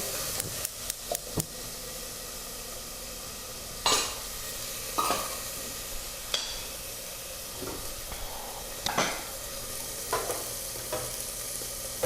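Vegetables with peas fry in a pan under a constant soft sizzle, while a utensil stirs them in a burst of quick clinks and scrapes early on, then in sparser knocks against the pan.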